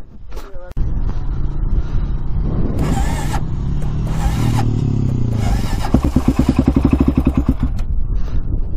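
Honda 400ex ATV engine struggling with a sticking piston: a rough, uneven running engine with surging bursts and clattering, close by and loud, ending in a rapid knocking rhythm.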